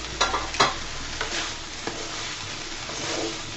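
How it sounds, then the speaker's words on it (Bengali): Bottle gourd greens stirred in a pan with a spoon, giving a few scraping strokes early on over a steady low sizzle, close and alone. "আমি আবারও নেড়ে ছেড়ে দিব।"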